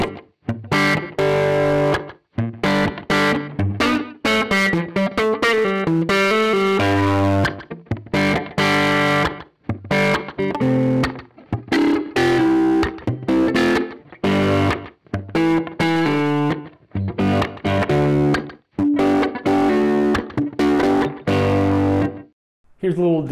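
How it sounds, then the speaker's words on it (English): Simian G Thang electric guitar played through a distortion tone on the bridge pickup, loud chugging riffs and sustained chords with short gaps between phrases. "here's a little distortion tone to show off the bridge pickup here."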